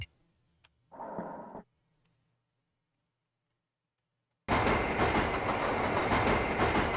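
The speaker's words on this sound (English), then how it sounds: "That is a secret train." Secret train in The Silver Case video game, a short burst of noise followed by silence, then loud continuous rumbling with steady clatter from the moving train.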